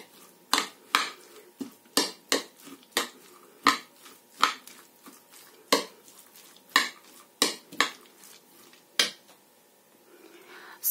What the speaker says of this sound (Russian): Сейчас мы это все тщательно перемешиваем.